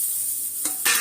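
Onions frying and being stirred in a pan for a hotel-style vegetable kurma: a close, steady hiss of sizzling with sharper bursts of scraping and stirring toward the end.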